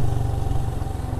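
A delivery rider's motorcycle engine runs with a steady low throbbing chug, close and continuous, with no speech.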